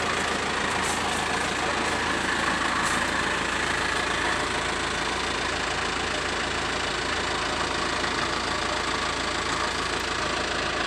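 Isuzu Elf short truck engine idling with a strange noise from the front, a steady close mechanical rumble with a faint knocking texture running unbroken and loud throughout, no talking.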